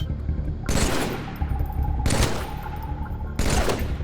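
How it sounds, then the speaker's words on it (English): Three bursts of rapid automatic gunfire in the Halo video game, shooting at ape-like creatures, each loud close burst lasting about a second and separated by short pauses. "when you shoot them, blood will spurt out even when shooting the teddy bear"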